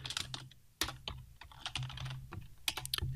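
Computer keyboard keys clatter in quick, uneven bursts as variables are typed into an Excel spreadsheet for an engineering force calculation, close and clear with no talking.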